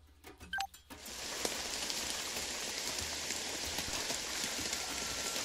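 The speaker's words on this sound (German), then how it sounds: "Es regnet nur." Steady rain in the tactical game Jagged Alliance 3, a dense continuous hiss of drops pattering on surfaces that stays even and fairly loud after a few brief louder sounds at the start.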